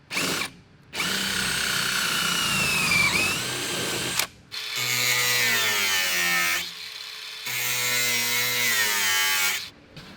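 A power drill whirs into wood beneath a boat trailer in three long bursts separated by short pauses, loud and close, with the motor pitch shifting as it bites.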